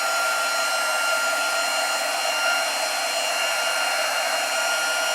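A heat gun blows hot air over embossing powder on a handmade sewing kit craft project, a steady, loud, constant whoosh with no talk throughout.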